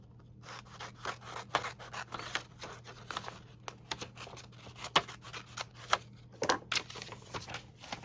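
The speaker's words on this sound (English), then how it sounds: "Can actually trim that down a little bit more." Scissors trimming paper for a junk journal, a run of quiet snips and rustling cuts scattered through the stretch, close by with no talk.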